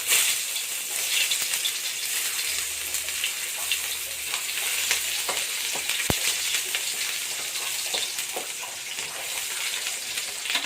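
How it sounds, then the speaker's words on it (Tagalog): Garlic and onion sizzle in hot oil, a steady bright frying crackle with scattered pops and occasional stirring clinks, close and continuous with no talk. "magpainit ng mantika. Yan, lagay na natin yung bawang at saka sibuyas"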